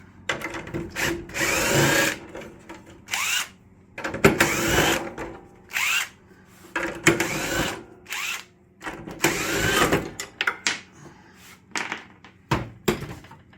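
Power tool running in repeated short bursts while removing nuts from a Mercedes-Benz W108 A/C evaporator box, each whirring spurt a second or two long with brief pauses between, close and fairly loud.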